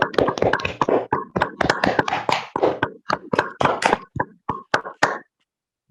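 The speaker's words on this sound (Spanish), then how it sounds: "abrir sus micrófonos para ofrecerle un fuerte aplauso al doctor" Scattered applause from an audience at an online astronomy talk about a new-technology telescope, made up of sparse, uneven claps through open microphones that stop after about five seconds.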